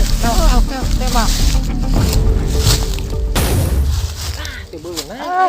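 A rifle shot booms during a hunt in a forest, with loud, sharp blasts cutting through a noisy outdoor scene while people talk and call out around it.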